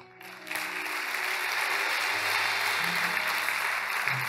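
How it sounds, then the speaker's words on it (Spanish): An audience breaks into sustained applause during a talk on family values, starting abruptly after a brief quiet moment and holding steady and loud to the end, with faint voices and low tones beneath the clapping. "eso mereció un aplauso"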